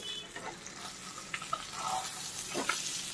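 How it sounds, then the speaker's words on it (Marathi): Fish frying in a hot pan, a steady soft sizzle with a few brief crackles and pops, close and alone without talk. "आपला हा आता फिश फ्राय झालेला आहे"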